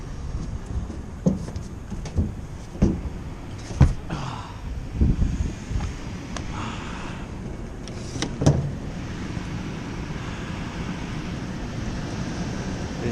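A furnace inducer motor hums steadily in an HVAC unit whose main burner is not running, with a few sharp knocks and clunks from nearby handling early on.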